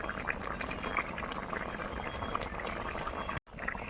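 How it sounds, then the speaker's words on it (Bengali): Shukto broth bubbles at a steady boil in an uncovered pot, a dense close simmering fizz and gurgle throughout, briefly cut off near the end before resuming. "এবার ঢাকা খুলে দেখে নেব ঝোলটা খুব সুন্দর ফুটে গিয়েছে"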